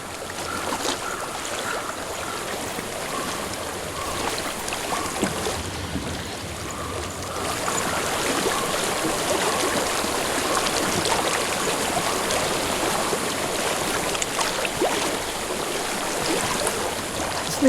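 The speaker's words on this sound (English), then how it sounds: "I hear water. Go to it." A flowing stream in the video game Hellblade: Senua's Sacrifice produces a continuous rushing, splashing wash of water that swells slightly louder midway and holds steady throughout.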